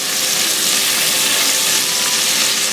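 Meat searing in a hot pan for Dublin coddle, a loud, steady, close broadband sizzle that holds evenly throughout with no voices.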